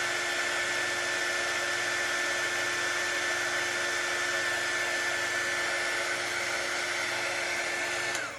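A hair dryer or heat tool blowing steadily on an etched craft project, a loud continuous whirring hiss held close for several seconds before it switches off at the end.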